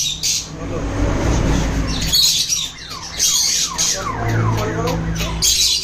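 Pet birds squawk loudly and close by in repeated harsh, rising calls over a noisy indoor background, with several birds overlapping.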